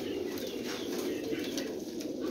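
Pigeons in a Jhelum loft coo softly, a low, continuous murmur of overlapping calls with faint higher chirps above it, at moderate distance and fairly quiet throughout.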